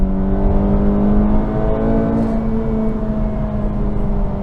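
Acura Integra Type S exhaust while driving, a loud, steady droning engine note with sustained low harmonics, heard from inside or close to the car with no talk.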